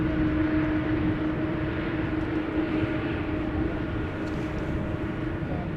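The KLM airliner "Orange Pride" at Amsterdam Schiphol Airport produces a continuous jet engine roar, a broad steady drone with a low hum, heard from a distance and without talk.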